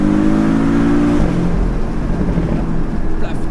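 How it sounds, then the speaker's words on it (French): Porsche 718 Boxster S four-cylinder engine droning steadily after a downshift, loud and close, with a rough, crackling exhaust texture as the throttle lifts. "une grosse pétarade"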